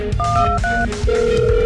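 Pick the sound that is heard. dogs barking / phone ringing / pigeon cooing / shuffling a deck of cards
phone ringing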